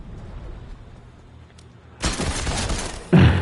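Gunfire in the video game Fortnite crackles in two sharp bursts, the second louder and closer, over a low steady background hum.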